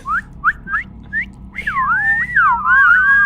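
A person whistles: four short rising chirps, then a longer warbling, wavering melodic whistle, loud and close with no talk over it.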